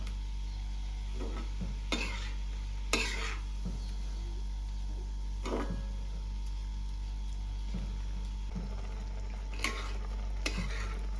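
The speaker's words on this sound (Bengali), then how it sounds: "নাড়াচাড়া করে কিছুটা রেখে দিতে হবে একটু সময়।" A spoon stirring milk in a pot while making dudh puli pitha, soft scrapes and light clinks of utensil against metal at irregular intervals over a quiet, steady background hum.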